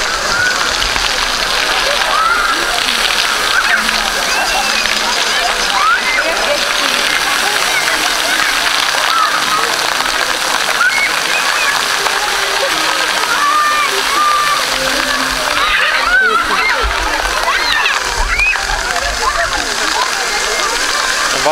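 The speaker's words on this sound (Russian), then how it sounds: "Главный фонтан. Главный фонтан мы пришли." Water from the main fountain on Sovetskaya Square splashes and pours steadily and loudly in the evening, a dense continuous rush with faint voices of people scattered in the background.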